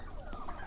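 Turkeys gobbling and clucking in a farm flock of about 150 to 200 birds, a brief, muffled, mid-distance warble without talk.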